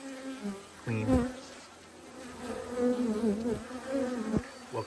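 Honeybees buzzing around a spring hive split with a newly mated queen, a steady mid-volume drone with several louder close passes as individual bees fly near.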